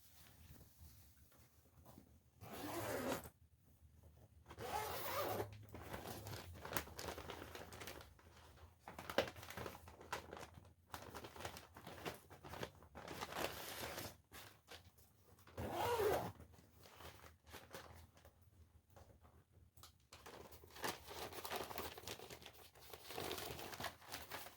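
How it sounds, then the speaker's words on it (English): A new paper dust bag is pulled out of a Riccar Supralite upright vacuum, giving bursts of crinkling and rustling paper between quieter pauses, close and fairly soft, with no speech. "So now let me take the brand new bag out."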